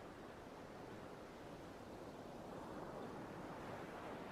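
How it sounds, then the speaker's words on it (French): Steady ocean surf washing in continuously, a soft broadband roar of waves that swells slightly toward the end, with no voices. "tu perçois déjà le doux son des vagues qui arrivent à tes oreilles"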